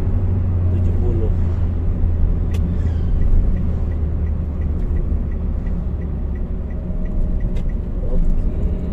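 Daihatsu Sigra car with about 100,000 km on it cruising in fourth gear at 70 km/h, a steady low engine and road rumble heard from inside the cabin, with faint clicks over it and no talk.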